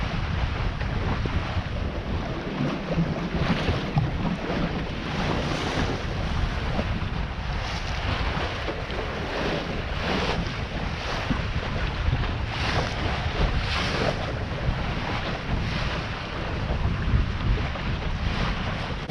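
A small sailing dinghy moves at around five knots through waves in a 7–8 knot breeze off Cronulla, with continuous wind buffeting and water rushing and splashing against the hull, close and unbroken.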